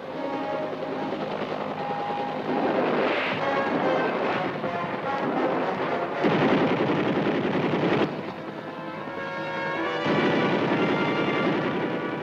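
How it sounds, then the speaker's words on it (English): Sustained combat gunfire from enemy forces shooting from cover inside buildings, a dense, continuous roar of rattling shots and rumble that swells and eases over twelve seconds without pause. "Enemy forces firing from the cover of buildings are neutralized."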